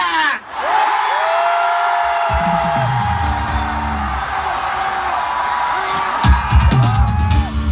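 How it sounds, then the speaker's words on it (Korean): A huge festival crowd at a 2015 Kyung Hee University campus show roars and shouts continuously and loudly for several seconds, whoops and yells swelling near the end over booming music. "지금부터 여러분 생애 최고로 큰 함성 전방에 7초간 발사"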